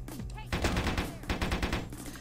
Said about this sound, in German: Bitte hören Sie auf mit Schießen.